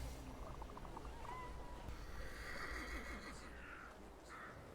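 A horse whinnies in the video game The Thaumaturge, a fairly faint, drawn-out neigh rising and falling over a busy background of ambient game noise.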